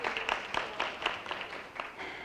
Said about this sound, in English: Give Kaitlyn a round of applause